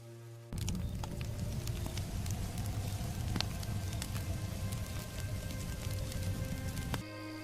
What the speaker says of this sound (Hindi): आज तो बारिश हो रही है